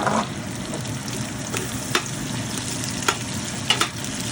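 Chopped onion frying in a pan for pinakbet, a constant close sizzle with occasional spoon taps and stirring clicks, no voices over it.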